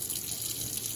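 Water from cooked ramen being poured out into a sink, a steady splashing rush heard close up with no talking.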